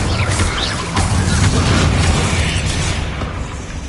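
Incendio fire spell bursting in Hogwarts Legacy combat, a loud, blasting whoosh and crackle with several quick pops layered over a deep rumble that slowly fades.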